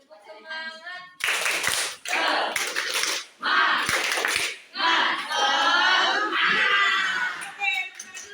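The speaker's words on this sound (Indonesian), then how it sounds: "Kita tepuk semangat dulu." Classroom of children doing a rhythmic spirit clap, bursts of patterned clapping in short groups broken by pauses, mixed with loud chanting and shouting voices close by.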